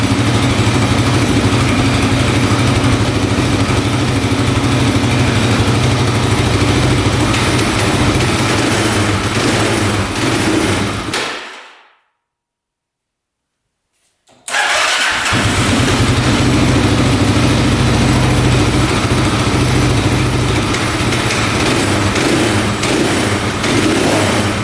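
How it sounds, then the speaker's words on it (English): Street legal dirt bike engine revving hard in loud, continuous bursts, with a short silent cut in the middle before the revving picks back up at full volume. "We're actually revving it up."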